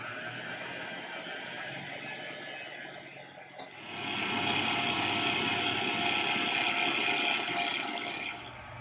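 A stand mixer running at medium speed mixing Nutella thumbprint cookie dough, a steady whirring motor hum that dips briefly, then returns louder and constant for several seconds before easing off.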